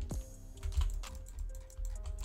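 Quiet keyboard typing during a Mighty Omega fighting game session, with scattered soft key clicks and presses over low background hum.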